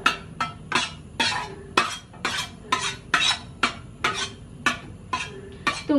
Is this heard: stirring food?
yes